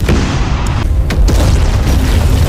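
A room blows up in a film explosion, a loud, heavy boom with rolling low rumble and a brief crackling burst partway through.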